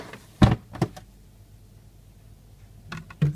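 Drawer of an old Samsung fridge freezer being handled: a few sharp plastic knocks and clunks close up, a pair early and another pair near the end, with quiet between.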